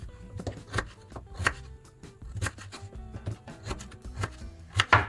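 A knife cuts beetroot into slices on a cutting board, a series of crisp, close chopping strokes in an uneven rhythm, with no talk.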